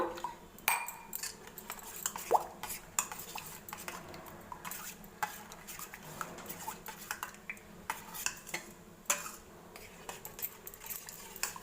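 A spoon stirs thick curd mixed with water in a bowl, making soft, irregular scraping and clinking against the bowl's sides, close and fairly quiet, with no talk.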